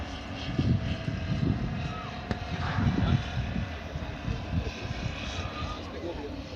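A WW2 German propeller plane passes over a re-enactment battlefield, its engine a faint, low droning rumble rising and falling beneath voices nearby.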